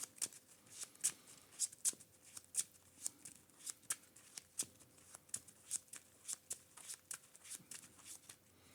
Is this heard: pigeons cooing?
no